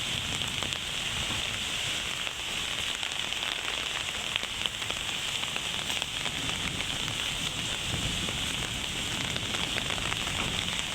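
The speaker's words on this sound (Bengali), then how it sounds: "কত জোরে বৃষ্টি হচ্ছে।" Heavy rain pours steadily at an old zamindar manor house, a dense, even hiss of drops hitting surfaces that continues unbroken and fairly loud throughout, with no voices.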